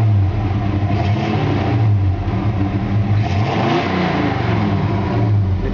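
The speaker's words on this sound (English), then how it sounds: "It's got a Flowmaster style exhaust system on it." A 1963.5 Ford Galaxie 500 with a Flowmaster-style true dual exhaust revs hard with a deep, rumbling exhaust tone, rising and falling in loud, sustained surges close by.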